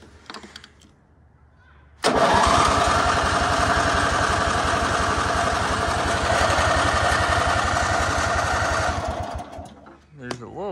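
A $20 riding mower with a brand new starter cranks and fires up, then holds a loud, steady running engine note for about seven seconds before cutting off. The space is quiet before the start.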